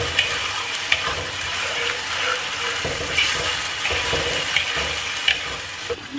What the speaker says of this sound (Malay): Kita kacau.